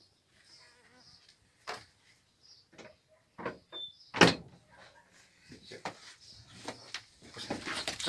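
A door is shut with a single sharp bang midway, amid indoor shuffling and scattered handling noises, with a voice speaking quietly around it.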